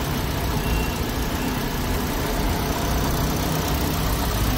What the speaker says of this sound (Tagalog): O very good running condition pa rin po yung unit.